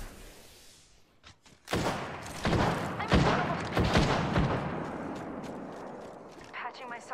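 A grenade detonates in Apex Legends, followed by a loud rolling blast and several heavy booming impacts over a few seconds, with gunfire-like bursts and a brief voice amid the chaos.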